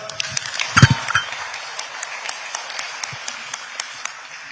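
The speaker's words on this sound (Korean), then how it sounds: "박수로 맞이하겠습니다" Scattered clapping from a crowd welcoming the South Korean president, irregular and moderately near, with a few louder claps early on and no speech.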